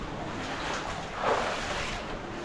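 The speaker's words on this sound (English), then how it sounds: "I hear another waterfall." Waterfall inside a flood-prone cave full of formations, a faint steady rush of falling water with a soft swell in the middle, distant and low in level.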